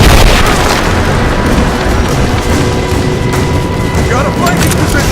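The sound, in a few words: gunfire and explosions in Rise of the Tomb Raider video game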